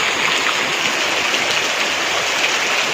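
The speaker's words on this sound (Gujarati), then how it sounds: "વરસાદ ફૂલ ચાલુ થઈ ગયો" Heavy rain pours down in a village near Botad. It makes a dense, unbroken hiss of water at close range, steady from start to finish, with no voices.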